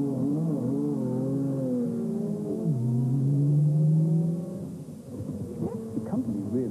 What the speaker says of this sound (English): Just how competitive is clear at Dijon the morning before the race, as cars leave the pits to complete timed laps